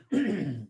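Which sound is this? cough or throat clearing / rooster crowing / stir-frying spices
cough or throat clearing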